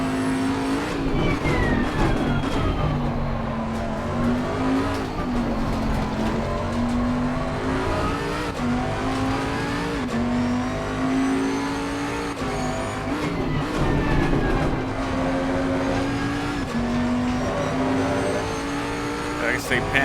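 Race car engine held in second gear in a racing video game, a loud sustained drone rising and falling steadily as the car powers through a section, with brief tire noise and no talk.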